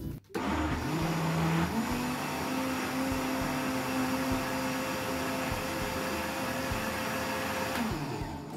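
A food processor whirs steadily while blending cooked vegetables into a cream soup, a loud continuous motor drone that starts abruptly and holds an even pitch after a brief rise.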